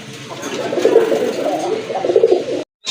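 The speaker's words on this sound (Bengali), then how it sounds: "এটা হচ্ছে এক জোড়া রাজগোল্লা কবুতর" A pair of Rajgolla fancy pigeons coo close by, soft repeated throaty burbling phrases in two bursts, ending with a brief gap near the end.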